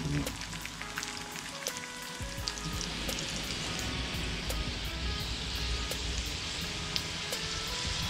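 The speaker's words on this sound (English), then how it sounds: "So we made 10 delicious chebureki and now it's time to fry them." Chebureki shallow-frying in a regular pan rather than a deep fryer give off a steady, close, crackling sizzle with dense spitting pops throughout.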